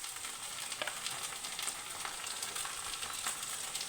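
Ginger and garlic paste sizzles and fries with onions and spices in a pan while mutton kosha is being cooked, a steady close crackling hiss with faint stirring scrapes throughout.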